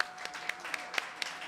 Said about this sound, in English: Another round of applause for Megan Smith.